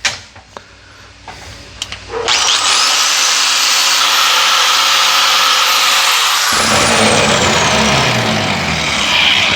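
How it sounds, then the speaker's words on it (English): Wire wheel on a power tool spinning up and brushing a custom machined Corvair oil plug, a loud sustained whine and scrape after a few small knocks, with the pitch shifting as the wheel bites and eases off. "So I'll just wire wheel it up a little bit"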